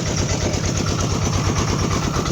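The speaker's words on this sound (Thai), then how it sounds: "นางรถไถพี่น้อง" A tractor engine idles close by in a rural outdoor setting, a steady low chugging rumble with even rhythmic pulses throughout.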